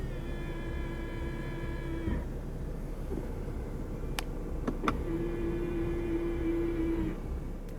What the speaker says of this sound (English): This car does have power folding side mirrors.